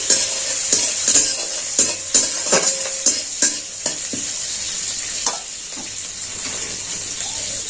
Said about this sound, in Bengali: এবার দিয়ে দিচ্ছি আমি কাঁচা লঙ্কা কিছু দিয়ে আবার এটাকে আমি একটু নাড়াচাড়া করে ভেজে নিচ্ছি